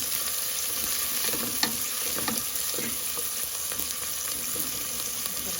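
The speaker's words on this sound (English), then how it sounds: "Bring it up to a nice heat and you just drop your onions in. Give it a good little saute." Onions sautéing in a tablespoon of hot oil for pork feet adobo, an even, steady hiss of frying throughout with faint stirring clicks, no voices.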